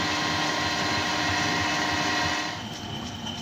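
A lathe faces off a metal rotor spacer for a custom Harley-Davidson Sportster bike, giving a steady, dense whirring hiss of spindle and cutting that eases and thins near the end, with no voices.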